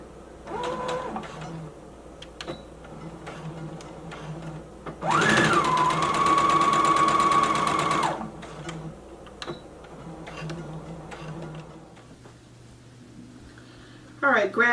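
A sewing machine runs a quick burst of stitching for about three seconds while sewing a drawstring maxi skirt, a loud rapid mechanical chatter amid quieter handling clicks, with someone talking before and after.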